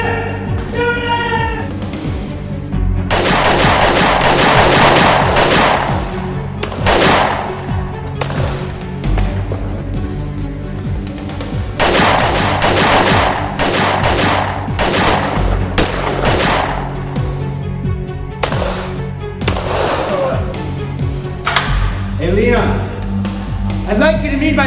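Rapid, loud gunfire rips through a movie shootout, bursts of shots and ricochets coming in dense volleys almost without pause, mixed with shouting voices and a music score.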